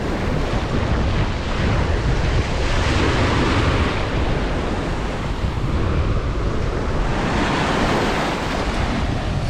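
Strong wind blowing on a beach in Antique, Philippines, a loud continuous roar of gusts buffeting the microphone, mixed with the wash of surf, swelling and easing without any talk.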